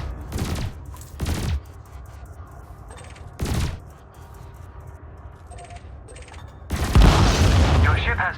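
Spaceship weapons in Elite Dangerous fire at a floating canister in several loud, broadband bursts: three short volleys early on, then one long sustained barrage near the end, with quieter mechanical ticks between.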